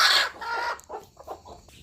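A native gavran hen hatching chicks gives a loud drawn-out squawk followed by several short soft clucks, close by with no talking.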